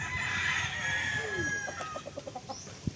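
Chickens and roosters in a small backyard poultry house with fly pens, where a rooster crows loud and near and is followed by a run of short rhythmic clucks, with no voices.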